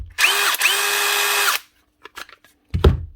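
A DeWalt DCF787 cordless impact driver with a replaced handle body whirs loudly in two close bursts, a short run then a longer one, followed by a few soft clicks and a low thump.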